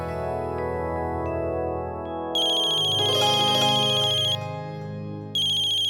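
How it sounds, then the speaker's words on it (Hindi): A mobile phone ringtone sounds loudly for an incoming call from mother: a bright electronic melody with a deeper tone underneath, which stops briefly and then starts again, with no voices. "माँ का फोन है।"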